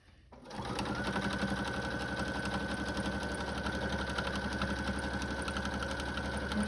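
A Brother A150 sewing machine runs steadily, stitching through thick layered fabric for a book sleeve, a close, continuous motor whir and rapid needle clatter that starts after a brief pause and holds evenly to the end.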